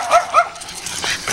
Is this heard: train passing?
no